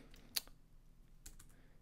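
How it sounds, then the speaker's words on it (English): Typing on a computer keyboard, close and quiet: a few sharp key clicks, one louder tap early, then a quick cluster of keystrokes near the end, with no talking. "some horrible typing"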